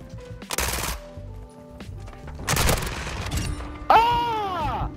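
Tech 9 submachine gun firing in MW2, several loud rapid bursts of automatic fire separated by short pauses, followed by a ringing whine.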